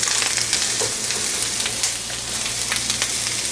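Shrimp, bell pepper and mushroom sizzle loudly in a hot stir-fry pan, a dense continuous crackle with a few soft scraping stirs and a low hum underneath.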